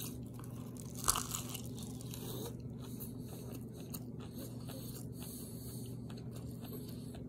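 Biting and chewing a Greco's meat lovers pizza topped with sausage, ham, pepperoni and cheese: a sharp crunch of crust near the start, then soft close-up chewing over a steady low hum, with no talking.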